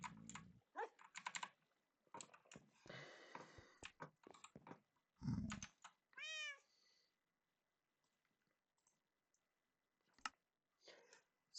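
A cat meows in a survival video game, its meows cutting through a busy mix of keyboard typing and mouse clicks, followed by a quieter stretch.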